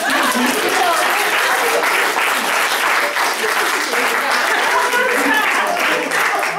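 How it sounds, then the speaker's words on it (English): Sustained applause from an audience at a storytelling workshop, brisk and even clapping close by for several seconds, with scattered voices mixed in. "Give yourselves a hand."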